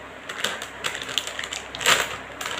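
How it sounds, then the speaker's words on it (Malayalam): Crinkly plastic and cardboard rustling from a My Buddy clay kit being unboxed, with several short crackles and snaps close by and one louder tearing burst near the end, no talking. "നമുക്കിതൊന്ന് അൺബോക്സ് ചെയ്ത് നോക്കിയാലോ."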